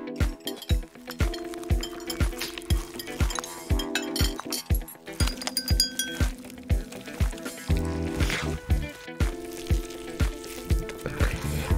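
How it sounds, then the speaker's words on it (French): Cake batter being vigorously mixed in a bowl, with rapid rhythmic clinking and wet squelching strokes that repeat steadily and close up throughout. "Nous allons tout mélanger avec vigueur."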